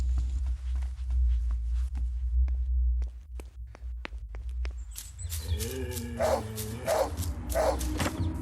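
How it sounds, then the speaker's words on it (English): Barking from the wolf in The Third Pig, a horror game, with sharp repeated calls answered by a low moaning animal sound after a stretch of clicks and thumps, mid-distance and fairly loud, no talk. "Oh, I thought he had a dog with him, but he is the wolf barking."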